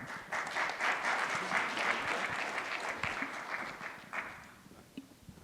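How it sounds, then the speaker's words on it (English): Conference audience applauding a panel, a few seconds of steady, fairly close clapping from a modest crowd that tapers off toward the end. "let's give another round of applause for our candidates here"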